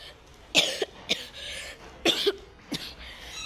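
Four sharp, close coughs spaced over a few seconds, a couple of them doubled, with quiet room tone in between.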